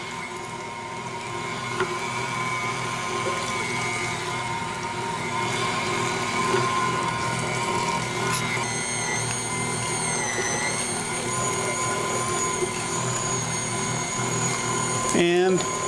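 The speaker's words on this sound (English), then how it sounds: "So we're going to fire it up and I'm just going to grind the meat through." An electric meat grinder runs steadily, grinding meat into sausage, with a continuous motor whine and rattle throughout and a brief clatter near the end.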